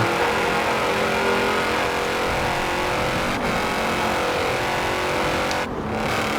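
A 2012 Shelby GT1000 in Forza Horizon 4 roars steadily at its top speed of about 247, a loud, sustained engine drone that holds without a break and with no voices over it.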